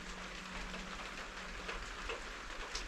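Steady rain falls outside an RV, a soft continuous patter of drops on the surface with a faint low hum beneath, quiet and even throughout.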